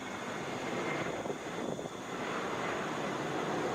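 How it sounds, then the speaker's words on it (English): Delta Airbus A321 jet touching down at Atlanta International Airport, arriving from LaGuardia: a steady, loud broadband engine roar with a brief dip midway, sustained throughout with no talk. "Delta 771 coming in from LaGuardia, Airbus A321, 10 minutes early."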